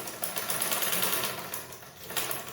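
A sewing machine runs close and continuous as it stitches bias tape onto a pencil skirt, its fast steady needle chatter buzzing throughout with small dips in level.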